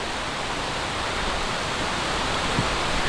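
Steady rushing roar of a waterfall beside a stone crossing on the River Ribble, a broad continuous wash of falling water, close and unbroken, with no voices.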